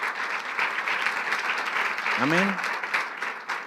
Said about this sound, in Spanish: Podemos darle unas fuertes palmas al Señor por estas palabras preciosas